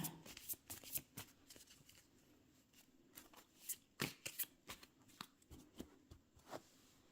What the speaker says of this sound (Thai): ขอเป็นตัวแทนสับไพ่ตัดไพ่ให้คนเกิดวันศุกร์ค่ะ